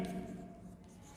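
Marker or chalk scrapes briefly across a board during a Class 10 mathematics lesson, a faint short rubbing stroke lasting about a second under quiet room noise.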